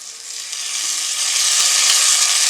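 Ginger garlic paste and green chilies sizzle loudly in a hot frying pan for coconut rice, a steady close hiss that builds slightly, with a few faint stirring taps.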